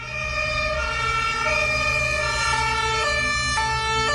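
Fire engine siren wailing loudly and steadily, a sustained tonal siren with shifting pitch over a vehicle's rumble, close and without any talking.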